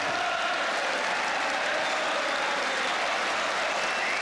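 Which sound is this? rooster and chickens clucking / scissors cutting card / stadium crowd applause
stadium crowd applause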